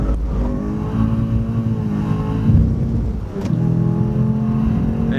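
A race car engine on the Phillip Island circuit, revved hard and close, climbing in pitch and dipping between gear changes, loud and continuous with no talk over it.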